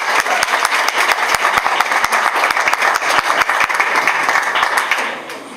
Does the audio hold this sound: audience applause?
yes